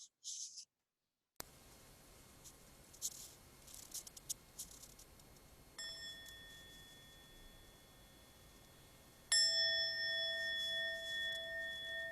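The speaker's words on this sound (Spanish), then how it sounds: "vamos a escuchar la campana" A meditation bell is struck twice during a sangha gathering, each time giving a clear bright ring that holds and then slowly fades in a quiet room after a few faint rustles.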